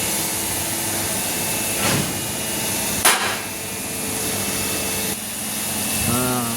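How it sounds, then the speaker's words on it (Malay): An engine lubricant oil flushing machine runs on a Proton Persona, giving a constant hissing, whooshing drone. A sharp knock or clank breaks in around the middle, and a brief tonal whine rises near the end. "Enjin lubricant oil flushing. Automobile engine dynamic cleaning detoxification mesin."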